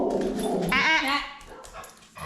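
A dog reacting to other dogs on a TV lets out a few low barks followed by a rising, whining whimper, close and fairly loud, then quieter snuffling.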